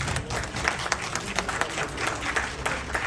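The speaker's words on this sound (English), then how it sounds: "Please give a big round of applause." A crowd of participants at an ICSI event claps steadily in a big round of applause during a certificate presentation, dense overlapping hand claps with no talking.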